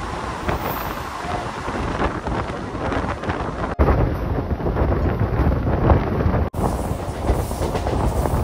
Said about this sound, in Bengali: আমাদের ট্রেন এখন স্কিপ করছে বালি স্টেশন।